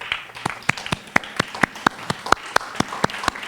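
Sparse, evenly spaced hand claps at an ashram anniversary celebration as board members are honored, with distinct individual slaps in a steady rhythm.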